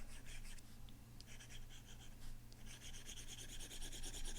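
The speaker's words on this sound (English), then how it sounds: "that scraping sound, because it's got a texture to it" A stylus scrapes steadily across an iPad fitted with a textured, paper-like screen protector, a close, dry rasping made of short repeated strokes that continue without pause and sound quiet and intimate.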